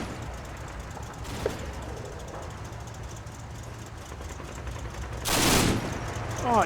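An MG34 machine gun fires in a Combat Mission tactical war game. Rapid bursts crackle at middle distance over a low rumbling engine, with a louder burst of fire near the end and some speech.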